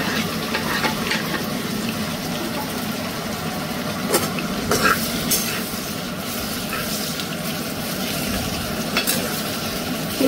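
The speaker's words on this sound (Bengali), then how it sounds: "পেঁয়াজটাকে একটু লাল লাল করে ভেজে নেব, মানে গোলাপি লালচে করে" Chopped onions frying in oil with whole spices make a continuous sizzle. Intermittent scraping and stirring clatter is heard close by, with a few sharper knocks of the spoon against the pan.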